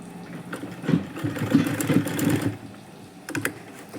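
Sewing machine running on lace, stitching a single seam in a few short bursts of rapid mechanical whirring, loudest in the middle, then a brief final run after a pause.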